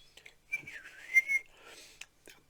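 A person whistles a short, wavering tune close by, with a few small clicks and breaths before and after.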